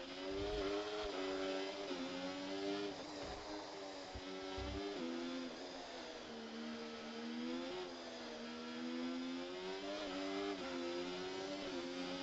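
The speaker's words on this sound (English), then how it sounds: "you can hear the wheel spin out of there" A Formula 1 car accelerates hard with wheel spin on the Baku street circuit, its high-pitched engine screaming loud and close as it climbs through the revs in steady, unbroken bursts without any talk.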